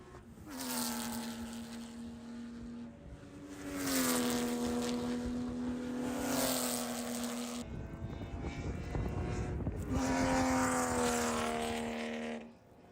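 Porsche Cup race cars lapping at speed during qualifying at Chuckwalla, engines howling loud and close with rising and falling pitch as several cars pass in succession, a gear shift and brief roar between passes.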